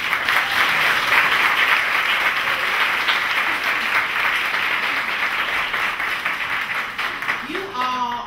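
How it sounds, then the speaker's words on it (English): A banquet audience honoring graduates breaks into sustained, dense applause, loud and even throughout, with many hands clapping together and a few voices rising near the end. "can we give a round of applause for our graduates again?"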